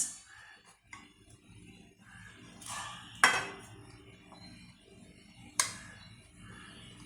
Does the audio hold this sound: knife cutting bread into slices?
yes